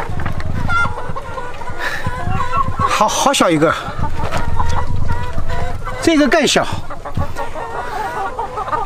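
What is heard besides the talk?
chickens clucking in a mountain chicken coop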